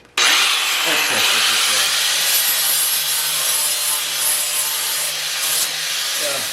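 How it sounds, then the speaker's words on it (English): A grinder runs continuously and loudly up close, taking excess metal off a repair on the rear door of a Mercedes W109 sedan, a harsh sustained rasp with no break. "And then all I'm doing is grinding off the excess."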